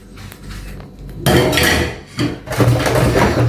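Pots and dishes being washed in a home kitchen, with clattering metal and clinking cutlery in loud bursts of scraping and knocking, close by and without talk.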